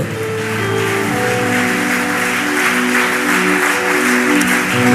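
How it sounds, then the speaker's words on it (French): A church congregation applauds steadily through a Sunday worship service, a dense, loud, continuous clapping with sustained tones from music or organ underneath. "quelqu'un acclame le Seigneur Jésus."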